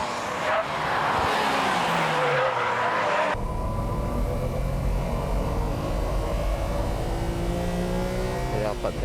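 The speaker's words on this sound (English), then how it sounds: "The four-wheel drive cornering machine Impreza passes the R33." A Subaru Impreza and a Nissan Skyline R33 race hard on a track, engines roaring and revving close by with a sudden gear change and tyre noise, under a commentator's talk.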